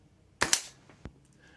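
PTS Mega Arms gas blowback airsoft rifle firing with its gas running low: two sharp, loud cracks in quick succession, followed by a softer, shorter pop about half a second later.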